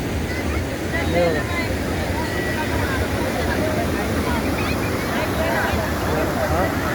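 Randha Falls, a waterfall in the Bhandardara area, roars as a steady, loud, broadband rush of water that holds constant throughout, with a wind-like hiss across the whole span.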